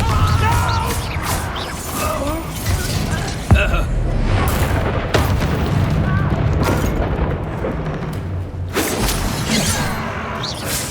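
Confringo blasting spell explosions in Hogwarts Legacy combat: loud booms with sharp impacts land over a dense, continuous roar of battle effects, with a few distinct cracks standing out.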